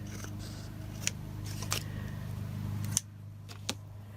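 Scissors snipping along the edge of old book paper for a journal collage, a few quiet, sparse cuts over a low steady hum.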